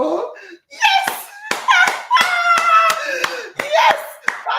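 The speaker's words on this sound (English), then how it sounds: "can you please give him a round of applause and welcome him" An audience claps in welcome for a doctor at a health talk on prostate cancer, a broad sustained round of applause with a few sharp individual claps. A voice speaks over it, with a voice and brief laughter mixed in.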